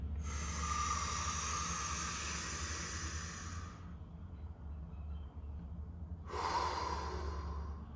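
A deep breath drawn in, held through a brief quiet gap, then a long exhale resumes, close and steady against a low continuous background hum.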